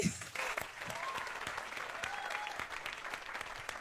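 A studio audience on the set of a live comedy show shoot breaks into applause, a fairly soft, continuous patter of many hands clapping for a few seconds with no voices over it.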